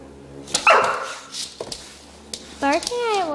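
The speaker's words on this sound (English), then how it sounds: "Barking at it won't make it stop, Anna." A dog barks at an electric foot massager indoors, giving a few sharp barks and higher whining yips over the massager's steady low hum.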